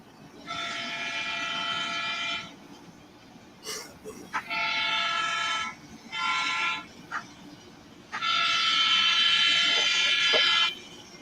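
A train horn blasts in several long, sustained soundings, some short and some drawn out, heard at moderate distance with quieter gaps between.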